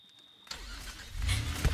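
A car engine in the video game Friday the 13th cranks and catches after a short quiet, then a low engine rumble swells and grows louder for a moment, with no talk.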